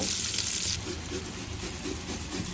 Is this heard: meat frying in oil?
yes